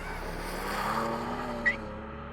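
A 2025 BMW M2 with a manual gearbox driving along, a steady engine drone with road and wind noise as heard from inside, moderately loud with no talk.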